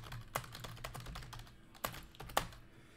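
Keystrokes on a computer keyboard while entering hits into a list during a 2019-20 Panini Flawless Collegiate basketball card box break, a few sharp clicks scattered over faint background hum, with no talking.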